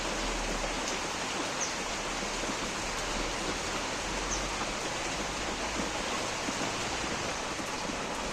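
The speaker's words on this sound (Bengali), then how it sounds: "জল একদম টকবক করে ফুটছে" Water boiling vigorously in a pot as rice is added makes a dense, constant rushing bubble that stays loud and even from start to finish.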